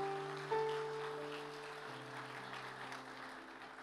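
Church congregation applauding during a sermon, a soft, distant wash of clapping under a sustained keyboard or organ tone that shifts pitch partway through.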